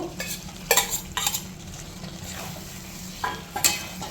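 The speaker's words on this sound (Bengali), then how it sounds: "এই স্টেজে আমি পটলগুলো যেগুলো ভেজে রেখেছিলাম সেই পটলগুলো মিশিয়ে দেব, আর চিংড়িটাও মিশিয়ে দেব।" Fried pointed gourd and shrimp being stirred into a simmering gravy in a pan, with a few sharp scraping clatters of the spoon over a low steady sizzle, close and fairly quiet.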